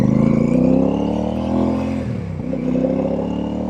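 Royal Enfield Super Meteor motorcycle fitted with AEW exhaust pipes, its engine note droning steadily and close up, a continuous throaty rumble with slight swells in pitch and no voices over it.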